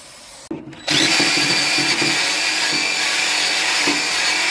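Brake cleaner sprays in a loud, steady hiss that starts abruptly after a short pause and runs continuously to the end, close up.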